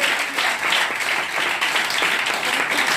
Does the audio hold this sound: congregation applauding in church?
yes